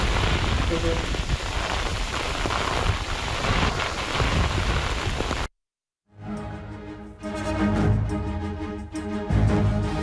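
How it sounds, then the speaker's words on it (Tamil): Heavy rain driven by strong wind around Kovilpatti, a dense continuous hiss of downpour that cuts off abruptly midway and gives way to a news jingle. "கோவில்பட்டி சுற்றுவட்டார பகுதிகளில் பலத்த காற்றுடன் மழை."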